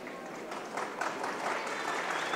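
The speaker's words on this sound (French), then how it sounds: "Ça mérite quand même un petit applaudissement." Faint applause from a crowd of young people at a Catholic youth day gathering, soft and distant, a steady patter lasting a couple of seconds with no talk over it.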